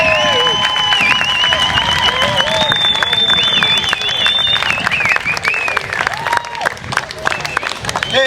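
Audience at a food pantry fundraiser claps and cheers steadily, with shrill whistles and whoops riding over dense, loud applause that thins slightly near the end.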